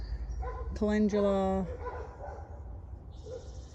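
Neighbouring dogs bark in a short burst of several yaps at a distance behind a gardener talking outdoors among vegetable plants on a hot summer day.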